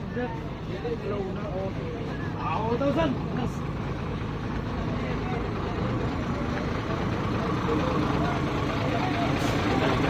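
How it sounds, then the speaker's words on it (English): A gas truck idles with a low, steady engine rumble at a busy ferry pier on Bantayan Island, while someone talks nearby over the continuous background noise. "So this is gas truck. This is how they get gasoline to Bantayan Island."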